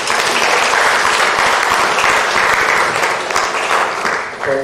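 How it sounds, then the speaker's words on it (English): A conference hall audience applauds the Institute of Chartered Accountants of India, dense sustained clapping filling the room evenly for several seconds before tapering slightly at the end. "a round of applause for ICAI"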